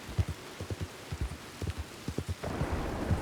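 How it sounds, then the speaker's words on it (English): Rain falling in Red Dead Redemption 2, a soft continuous patter beneath a rhythmic series of low hoof-like thumps, growing denser and steadier in the final second. "See this atmosphere? This rain coming down?"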